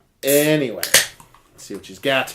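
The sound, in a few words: beer can being cracked open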